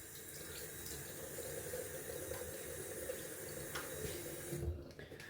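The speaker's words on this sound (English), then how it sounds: "Gonna add some cold water to the face." Water runs steadily from a bathroom tap into a sink while a face is wetted before a shave, a continuous close splashing hiss that stops near the end.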